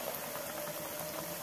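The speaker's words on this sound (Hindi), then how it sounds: "तेल को आपको अच्छे से गर्म करना है और आपको सूजी की पानी पूरी को बेलते जाना है और इसमें डालते जाना है।" Semolina pani puri sizzle as they fry in hot oil, a dense, steady bubbling hiss heard up close with no talk.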